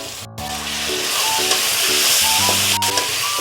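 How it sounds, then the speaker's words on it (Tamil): Chopped tomato sautéing in a kadai for an okra stir-fry gives a steady close sizzle and hiss throughout, with a brief sharp clatter near the start. Background music plays underneath. "இந்த தக்காளி பழமும் கொஞ்சம் வதங்கட்டும்."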